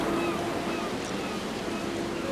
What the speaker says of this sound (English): Waves crashing at its majestic base in massive sprays.